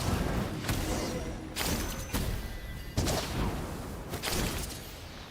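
Gunfire in the video game Genshin Impact: five loud, evenly spaced shots roughly a second apart, each a sharp burst with a fading tail, over a busy game soundscape.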